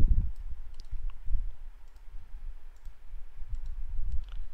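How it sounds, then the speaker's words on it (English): Keystrokes on a computer keyboard as terminal commands are entered on a Raspberry Pi 3 setup, a quiet run of soft irregular clicks and taps lasting a few seconds, with no talking. "we just type the following."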